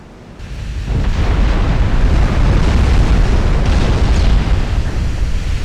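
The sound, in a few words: naval gun volley firing, from the video game Ultimate Admiral Dreadnoughts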